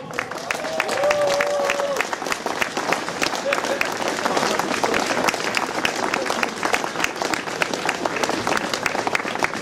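A crowd at an outdoor peace demonstration in Berlin applauds steadily to welcome a speaker, a dense, continuous roar of clapping with a few cheers that holds at the same strong level the whole way through.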